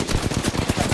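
Rapid automatic gunfire in the video game Apex Legends, a loud, continuous burst of shots crackling in quick succession through the whole second with no voices.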